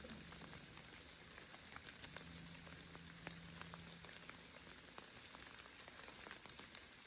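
Rain falls during a hunt, a faint, steady patter of drops with sharp ticks on nearby surfaces, continuing alone with no voices.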